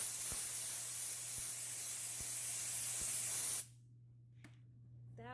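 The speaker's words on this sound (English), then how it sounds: "The steam, maybe if I add a lot of steam to it," A Bissell Steam Shot handheld steam cleaner blasts a loud, continuous hiss of steam at kitchen water stains under a low hum with faint clicks, then stops abruptly, leaving quiet with a few small knocks.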